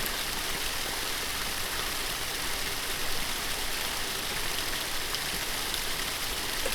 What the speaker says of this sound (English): into that I have this waterfall sound. Let me play it to you.